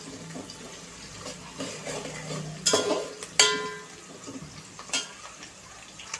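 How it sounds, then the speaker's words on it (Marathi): Sliced onion frying to brown in a pan for soya chunk pulao, a soft steady sizzle broken by a few sharp metallic clinks of a spoon stirring against the pan, quiet and close, with no voices. "हा छान असा आपल्याला ब्राऊन करायचा आहे कांदा"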